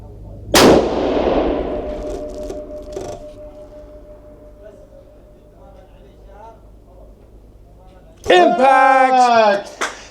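.375 CheyTac Victrix rifle fired at a steel target about two miles away: one sharp, loud muzzle blast decays into a long echo, and several seconds later a short, faint ring of the distant steel impact follows.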